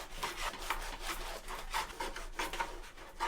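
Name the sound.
knife slicing Italian bread loaf diagonally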